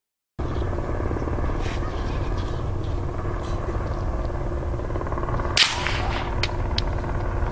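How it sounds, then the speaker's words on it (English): A helicopter circles overhead in a forest, its rotor producing a continuous rumbling thrum at steady loudness, broken once by a sharp crack. "Above them, the distinct sound of a helicopter circling can be heard"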